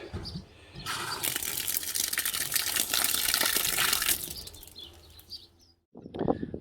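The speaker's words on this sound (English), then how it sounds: "water straight from the tank, nice and cold" Water gushes and pours steadily from a tank outlet for several seconds, then stops briefly before a short final splash.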